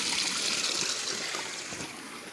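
Water from a hot spring waterfall in Krabi pours and splashes as a steady, close hiss that stays even and fairly loud throughout, with no voices.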